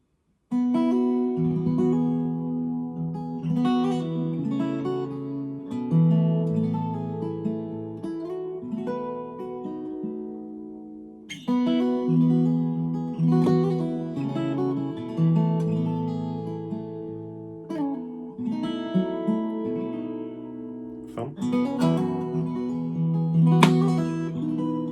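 An acoustic guitar tuned to DADGAD plays a piece, with ringing open strings and layered fingerpicked chords that sustain continuously and close up, with no talking.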